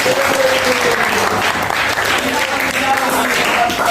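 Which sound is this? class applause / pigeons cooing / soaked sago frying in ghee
class applause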